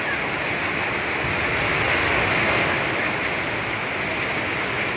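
Heavy rain pours down over Kabirpur in Dhaka, a loud, dense, steady hiss of falling water with no break and no voices.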